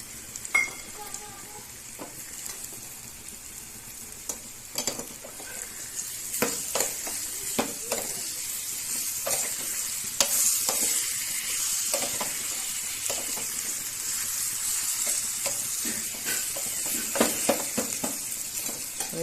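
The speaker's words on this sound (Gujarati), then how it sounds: "હવે એમાં એડ કરશું થોડાક ઝીણા સમારેલા ટમેટા" Finely chopped tomatoes sizzle in a hot tempering of oil for dal, a continuous frying hiss broken by occasional stirring clicks and scrapes close by.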